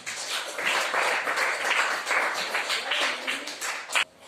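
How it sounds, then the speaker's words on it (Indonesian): Hands clapping in applause from an audience at an Islamic studies teacher training session, a steady mid-level patter of many claps lasting a few seconds with a brief louder burst near the end. "Oke, tepuk tangan dulu."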